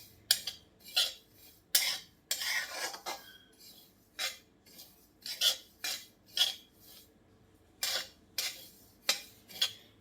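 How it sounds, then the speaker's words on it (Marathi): Poppy seeds being dry-roasted and stirred in a hot kadhai for Eid sheer khurma, heard as repeated close scraping and rustling strokes of a spoon against the metal pan in an irregular rhythm, with no voices. "कढई गरम असल्यामुळे खसखस पटकन भाजली जाणार आहे आपली."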